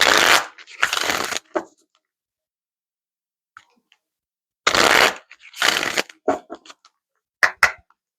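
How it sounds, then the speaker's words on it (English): Oracle cards are riffled and shuffled up close in several crisp bursts, with a long silent gap between them. A few light taps and clicks follow as the cards are handled. "let's grab a couple oracle cards here from Isis to close out this reading"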